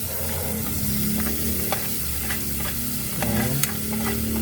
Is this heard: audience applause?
no